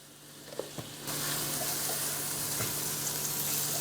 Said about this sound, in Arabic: هشوح كده كل ده مع بعض